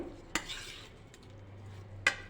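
A spoon stirs tempered khichu muthiya dumplings in a pan, with two sharp metallic clinks against the pan separated by a quiet low hum.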